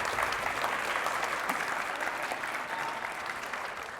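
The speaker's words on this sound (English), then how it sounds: "Let's give them a round of applause." An audience at a kids' culinary competition claps steadily for the sponsors, a soft, even patter of applause heard from a distance throughout.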